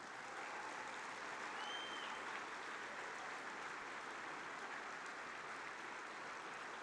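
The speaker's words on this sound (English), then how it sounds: "Give them a round of applause." Steady, even applause from a luncheon audience for graduating college football players, a continuous wash of clapping that holds at a constant level from start to finish.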